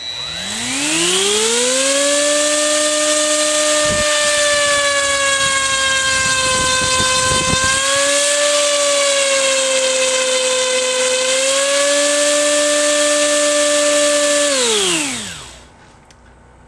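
An Align T250 RC helicopter fitted with Align H25095T weighted grips spins up to a loud, steady whine at about 19,000 RPM. The pitch rises quickly, holds high and nearly level for about thirteen seconds, then winds down.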